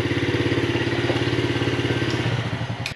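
A Yamaha TTR50 dirt bike engine running steadily after a carburetor cleaning, with a close, loud, even idle pulse that holds throughout and dips slightly near the end.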